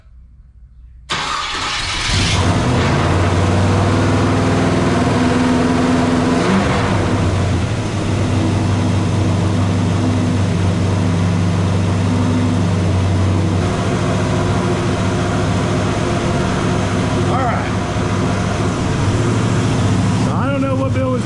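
A 1956 Chevrolet Bel Air engine with a carbureted motor catches after a quiet second and then runs loud and steady at a fast idle that is too high. Its rumble holds evenly for about twenty seconds while people talk over it.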